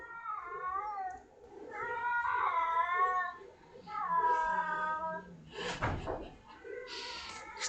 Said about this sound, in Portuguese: Estão ouvindo o gato?